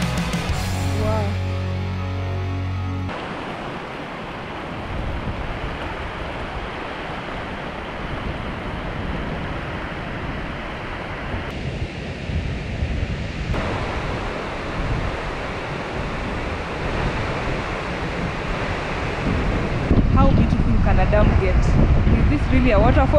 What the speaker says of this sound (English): Really a waterfall or a dam?